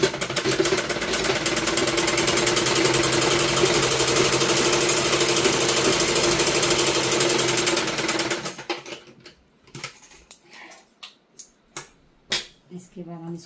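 An electric sewing machine stitching a suit runs at a fast steady whir for about eight seconds, then stops, followed by a few sharp clicks and short bursts.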